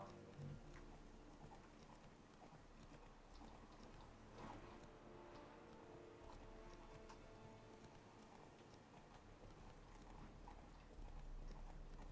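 Faint, steady horse hoof clip-clops patter along under a low background wash in The Witcher 3 video game, with occasional soft voice sounds.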